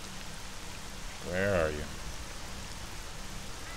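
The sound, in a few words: rain in the video game S.T.A.L.K.E.R. Shadow of Chernobyl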